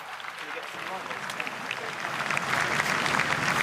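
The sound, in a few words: spontaneous applause from crowd after the Queen's death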